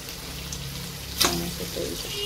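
Onion dropped into a hot pan, a brief hiss then a continuous close frying sizzle, moderately loud, with no talking.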